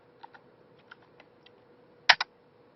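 Several soft, scattered keystrokes on a computer keyboard followed by two louder, sharper key presses, like a command being entered, in a quiet room.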